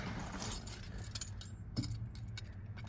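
Car keys jingle and clink in bursts inside a 1988 Jeep Comanche pickup, close and fairly crisp, with a few sharper metallic taps and no talking.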